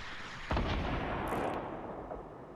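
A single gunshot blast cracks out loud in a Fortnite duos match, its boom ringing and decaying over the next two seconds, with a faint high-pitched game sound shortly after.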